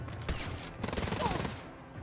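A rapid burst of gunfire from a weapon in the video game Wolfenstein Youngblood, two sharp volleys rattling close and loud, then trailing off into reverberation.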